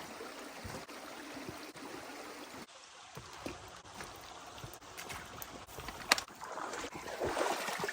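A creek flows and trickles steadily outdoors in a soft continuous wash, fairly quiet, with a few bumps and a swell of water noise toward the end, and no voices.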